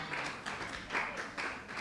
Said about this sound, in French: On applaudit pour Angela,